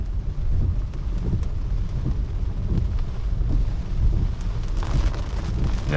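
Rain drums steadily on wet roads around a Tesla driving on Full Self Driving through Houston on a rainy Saturday afternoon, a continuous loud rushing wash with low rumble and no talk.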